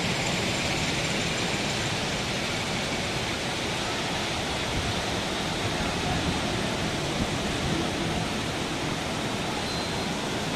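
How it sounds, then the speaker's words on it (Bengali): Torrential heavy rain in Puri, Odisha pours down as a dense, unbroken roar of broadband noise, steady and loud for the whole stretch, with no voices over it. "মুষলধারে বৃষ্টি পড়ছে।"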